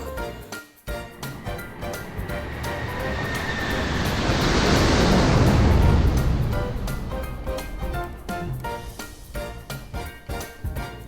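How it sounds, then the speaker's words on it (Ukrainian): A loud, broad roar swells up to a peak midway and then fades, like an aircraft passing overhead, with rattling, gusty noise throughout. "Так, це звук літака, який летить у небі."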